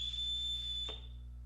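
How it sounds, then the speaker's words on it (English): A sharp whistle blast in a scene from The Sound of Music film, a single sustained high shrill tone over a low background hum that cuts off after about a second. "he's got a whistle for him."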